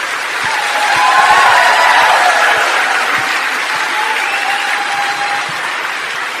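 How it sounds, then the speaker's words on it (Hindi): A large hall audience bursts into loud, continuous applause that swells slightly early on and then holds steady, with a few scattered voices mixed in. "अब लगाओ ताली"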